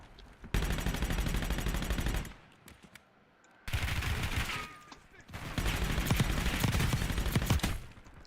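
Pistol gunfire rattles out in the video game Warzone as loud, dense bursts of rapid shots. The bursts last several seconds each and are separated by a brief quieter pause.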